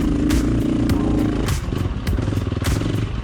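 A motorcycle fitted with a Tokyo Mods Vortex ECU runs a loud, close engine stall test, the motor droning steadily with rhythmic pulsing and brief clattering bursts, warm after a long run.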